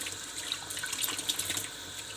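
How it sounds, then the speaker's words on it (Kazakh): Water runs steadily from a tap over a plastic bottle cap being rinsed, a continuous close splashing hiss with small bright spatters and no voices. "Мына крышканы міндетті түрде шаю керек."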